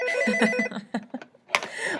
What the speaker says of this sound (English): I'm sorry about those phone calls